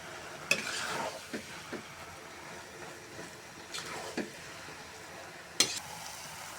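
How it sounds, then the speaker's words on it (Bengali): Vegetables and noodles being stirred and mixed in a pan, a steady soft sizzle with occasional utensil scrapes and taps against the pan. "সবজি, নুডলস সব এরকম করে মিক্সড করে নিব।"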